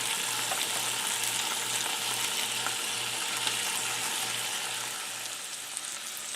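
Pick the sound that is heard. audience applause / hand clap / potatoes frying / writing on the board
potatoes frying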